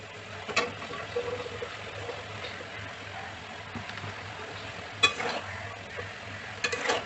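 Cut taro stolons are added to a pan of simmering jackfruit seeds and stirred, with a low steady sizzle and intermittent clicks and scrapes of a spoon against the pan.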